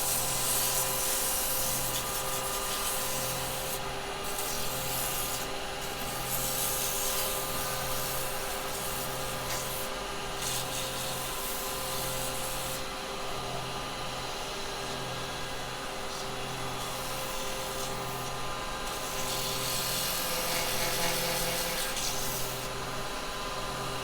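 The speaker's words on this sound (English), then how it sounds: "let's do a little sand on that" A turned wood piece being sanded on a spinning lathe, a continuous abrasive hiss over the motor's steady hum, with pulsing swells as the paper is pressed and shifted, no speech.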